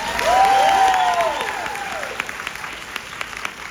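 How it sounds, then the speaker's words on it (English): A packed audience at a Yellowjackets cast Q&A breaks into loud, dense applause that peaks early, then thins into scattered claps and a few cheers as it fades, with a whistle-like squeal near the start. "Let's get a round of applause for the rest of the other guys"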